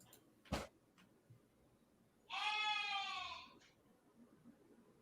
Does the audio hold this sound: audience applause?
no